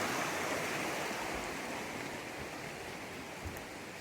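A backcountry creek in Georgia runs steadily near a sandy-bottomed pool, giving a continuous broadband wash of flowing water that holds level throughout and slowly eases a little, with no voices.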